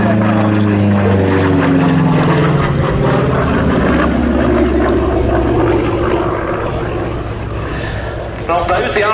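A Republic P-47D Thunderbolt World War II fighter flies at the Duxford Battle of Britain Airshow. Its propeller engine roars loud and close, and the pitch sweeps downward as it passes, with a commentator talking over it.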